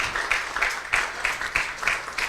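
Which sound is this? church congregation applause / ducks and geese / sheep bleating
church congregation applause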